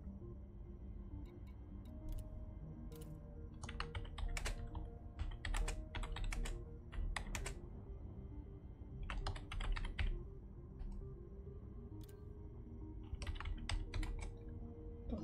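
Typing on a computer keyboard in short, irregular bursts of crisp clicks, close and fairly quiet, separated by brief pauses over a low background hum.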